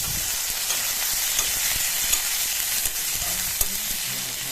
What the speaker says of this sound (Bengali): এরপর আমি এর মধ্যে কেটে রাখা টমেটো দিয়ে দিলাম।